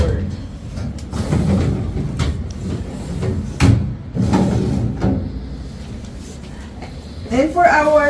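An IKEA wardrobe cabinet drawer in a newly furnished two-bedroom condo unit is slid open and shut, giving several sliding rumbles and soft knocks while a person talks over it.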